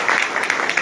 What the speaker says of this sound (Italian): Un applauso anche per